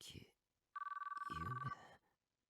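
A telephone ringing in the ChäoS;Child visual novel game, a single trilling ring burst of rapid pulses lasting about a second, with a voice speaking just before and during it.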